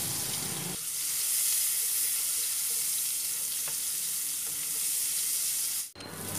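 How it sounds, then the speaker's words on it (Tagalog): White onions sear in butter in a pan with a steady, close hiss that holds evenly for about five seconds, then breaks off briefly near the end. "we're just going to sear the white onions"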